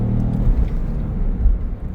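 A Citroën C4 Cactus with the 1.2 PureTech engine accelerates in second gear. A steady, loud, low engine drone and road rumble come from inside the cabin, with no talk.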